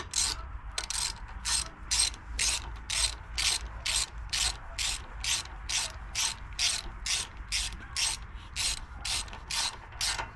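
Ratchet wrench turning the single valve cover bolt on a Predator 420cc small engine, a quick even series of about twenty-two clicking strokes, close and clear, no voices.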